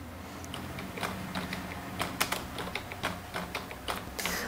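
Someone types code on a computer keyboard, close, crisp key clicks in an uneven rhythm with a few heavier keystrokes, against a faint background hum.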